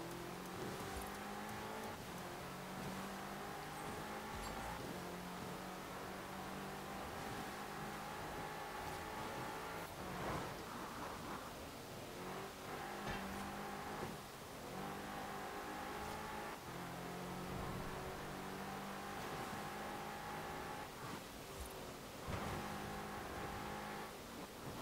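A rear-wheel-drive car in Forza Horizon 4 revs steadily, its engine note rising and falling repeatedly over a continuous drone, close and fairly quiet throughout with no other sounds.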